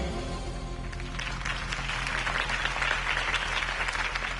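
Steady applause from a crowd in the Batman game, dense clapping that holds throughout without pause.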